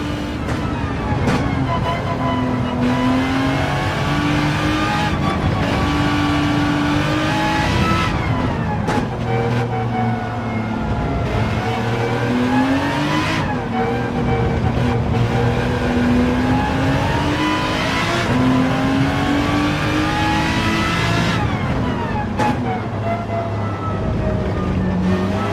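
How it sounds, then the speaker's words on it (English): A loud Aston Martin race car engine revs high and shifts through gears continuously at Interlagos, pitch rising and falling as it accelerates and brakes, with no talking. "listen to the beautiful noise from the Aston Martin engine"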